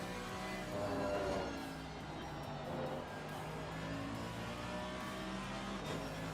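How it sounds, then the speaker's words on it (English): Race car engine in the Assetto Corsa Competizione sim at Donington, an RWB Porsche in a sprint race, droning steadily with a deep, throaty, propeller-plane-like roar that holds loud and even throughout. "Car sounds awesome."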